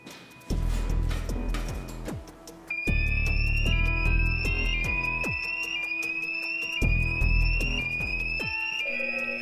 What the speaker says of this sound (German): plötzlich ging der Alarm los